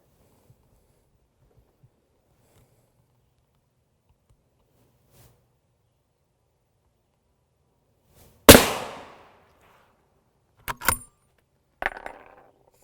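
A Barnes tipped triple shock rifle round strikes an AR500 level IV armor plate during a body armor test: one loud, sharp shot after near silence, followed by two shorter, quieter impacts.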